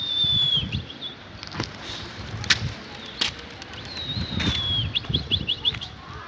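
Pigeons flap their wings in bursts as they take off, with irregular close fluttering and wing claps, while faint high whistling chirps sound in the background.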